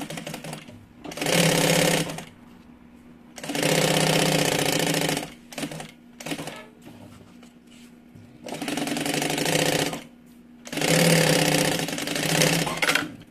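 A sewing machine stitches along the edge of a small backpack's inner pocket in three loud, close bursts of steady mechanical whirring, with quieter handling and shuffling in the gaps between them.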